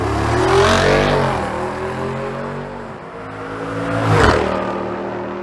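A Jeep Wrangler Rubicon 392 with its 6.4-liter Hemi V-8 revs loudly up and down twice, the engine note rising, settling, then surging again close by with no voices.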